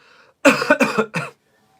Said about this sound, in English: I've got a bit of a cough as well now